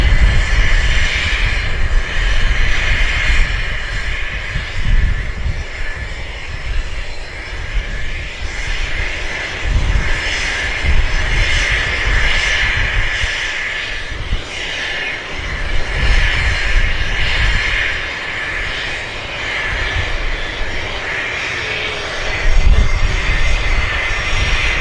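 A Flair Airlines jet bound for Montreal at Vancouver Airport gives off a loud, steady engine roar that fills the whole stretch without letup, with no voices over it.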